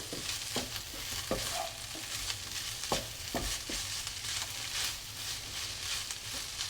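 Mozzarella cheese is stirred through pizza rice in a hot pan, a dense close sizzle with irregular scraping and knocking of a utensil against the pan, steady throughout, no talking.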